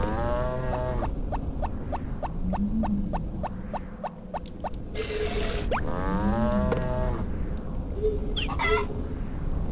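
Cartoonish cows in Harvest Moon: Friends of Mineral Town let out two short rising moos amid a quick run of ticking blips and chimes from the game, over a steady backdrop of farm music.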